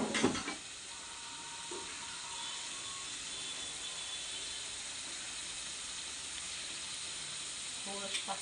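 Masala with grated coconut fries in hot oil for a rasa curry, a steady close sizzle and hiss running evenly throughout, with a few faint clinks at the start and end.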